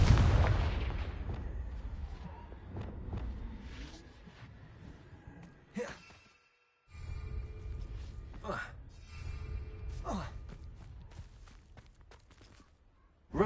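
Confringo and Bombarda spell blasts from a Harry Potter video game go off as several sharp, booming explosions spaced a few seconds apart, mixed with game ambience and a brief silent gap.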